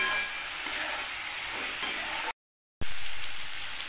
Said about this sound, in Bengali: বেগুনের সাথে এই সমস্ত মশলা দিয়ে আরও একবার কষিয়ে নেব অল্প সময়ের জন্য।